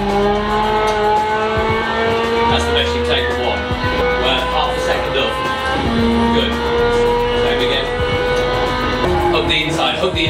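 A Formula 3 car in a racing simulator at Oulton Park accelerates hard out of a corner, its engine droning loud and steady with rising pitch and gear changes, while a voice talks over it.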